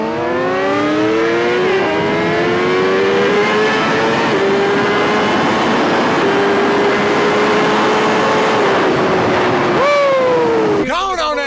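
A stretched and lowered Kawasaki ZX-6R sport motorcycle revs loud and close, its engine tone climbing and holding through the gears in one continuous pull before dropping sharply near the end.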